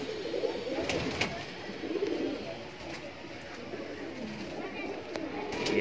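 Kaldume pigeons cooing in a loft, a steady murmur of soft low coos from several birds close by, with faint bright clicks and rustles over the continuous background.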